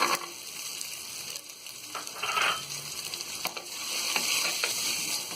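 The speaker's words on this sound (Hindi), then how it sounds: "अब इसमें हम ये मटर डाल देंगे" Green peas fry with green chillies in a pan for pulao, a close, busy sizzle with scraping stirs and crackles running throughout, with no one speaking.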